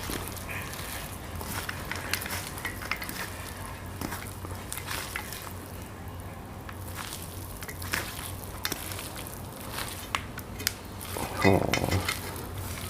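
Thai green papaya salad is mixed by hand, with a steady wet rustling, squelching and stirring throughout, occasional light clinks, and a louder burst of mixing near the end.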